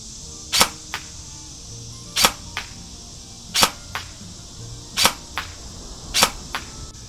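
A Lancer Tactical Gen 2 ProLine M4 SPR Interceptor airsoft rifle fires five single shots at a target 20 yards away, each a sharp crack followed a moment later by a softer tap, spaced evenly with quiet between.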